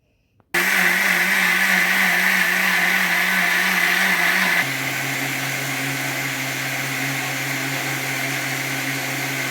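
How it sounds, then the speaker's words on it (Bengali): An electric blender grinds soaked rice, switching on abruptly with a loud, steady whirring roar close by, then settling into a slightly lower, smoother drone as the mixture breaks down. "5 ঘন্টা পর আমরা এখন চালটাকে ব্লেন্ড করে নিব।"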